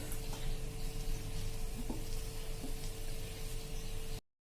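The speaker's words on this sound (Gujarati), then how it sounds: "આ રીતે 1 ચમચી તેલ નાખીને આપણે ફરતું સ્પ્રેડ કરી લેશું." A spoonful of oil sizzles around a raw potato dosa in a nonstick pan, a steady close hiss with a faint hum underneath, continuous for about four seconds before cutting off abruptly.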